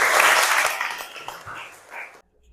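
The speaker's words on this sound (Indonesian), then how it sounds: "beri aplaus untuk Winda" A classroom gives a student a short round of applause, a dense burst of clapping that thins out and stops abruptly after about two seconds.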